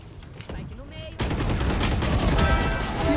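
Rapid bursts of gunfire in a video game, starting lighter and then erupting into a loud, dense stream of overlapping shots that fills the rest of the moment.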